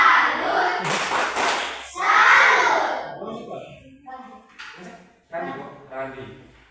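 Schoolchildren in an Indonesian primary classroom perform the tepuk salut clapping routine, a burst of loud rhythmic claps and shouted chanting, followed by a teacher talking and a few scattered thumps.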